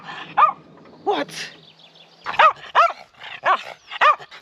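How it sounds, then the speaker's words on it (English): Dizzy, a dog at a lakeside van camp on a cold, windy day, barks seven times, a pair of spaced barks followed by a quicker run of five, close and loud. "that's why Dizzy's barking, because he always barks at the wind and the cold"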